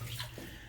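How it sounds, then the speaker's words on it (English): Steady sloshing of water as someone wades through a flooded stretch of an old mine, a continuous close splashing wash with no talk. "this stretch of water isn't too bad, and these are waterproof"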